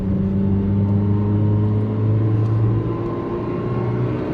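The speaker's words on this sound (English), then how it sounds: "I really enjoy revving an engine." The engine of a Nissan Micra K11 hums steadily from inside the car, a loud close drone holding a fairly even pitch with only slight rises, with no talking.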